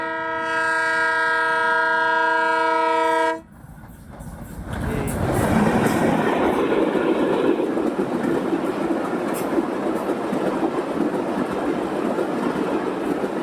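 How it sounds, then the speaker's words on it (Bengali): A long steady train horn blares for about three seconds, then a passenger train rushes close by with continuous loud rumbling and rhythmic clickety-clack of wheels on rails. "এই যে ট্রেন আসতেছে, এই যে দেখতে পাচ্ছ আব্বু?"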